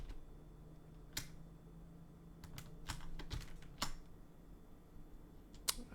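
Scattered keystrokes on a computer keyboard with some keys not working properly: a few sharp clicks and short bursts of tapping at an irregular pace, quiet against a low hum, with no speech.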